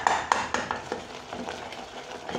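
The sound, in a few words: stirring melting caramel in a pan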